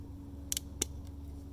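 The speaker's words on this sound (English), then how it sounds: "then it ratchets itself down really tight" A crimping tool ratchets down on a steel-ringed coupling during a water main pipe replacement, giving a few quick sharp clicks close by over a low steady hum, with no talking.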